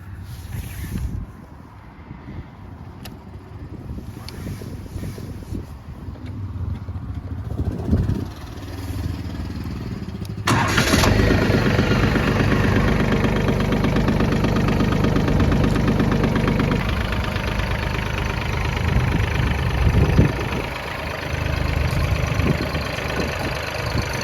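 A Farmtrac FT26 compact tractor's small diesel engine cranks and catches about ten seconds in, then settles into a steady, loud idle with a rhythmic knock, close by.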